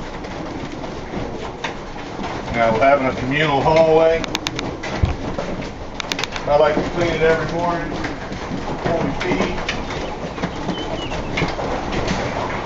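Birds coo and flutter in a communal hallway before morning feeding in Georgia. The soft calls sit close and steady beneath someone talking throughout.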